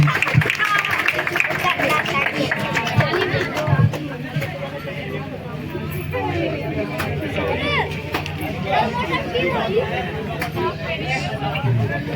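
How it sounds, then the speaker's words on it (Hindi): A crowd at an Independence Day award ceremony in Banpur claps unevenly amid busy chatter and voices, the scattered applause mixing with the hubbub throughout. "जोरदार ताली है।"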